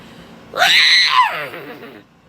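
A person's voice imitates a horse neighing: one loud, close whinny about two seconds long, rising sharply and then wavering down in pitch before trailing off into quiet.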